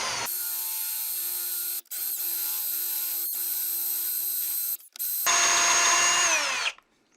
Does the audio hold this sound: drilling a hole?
yes